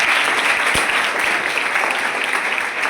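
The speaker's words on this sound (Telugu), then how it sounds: "చప్పట్లు కొట్టాలి బోర్డుకి" Tenth-class students at a Boduppal government high school applauding, a dense steady burst of clapping from a roomful of people that continues evenly throughout.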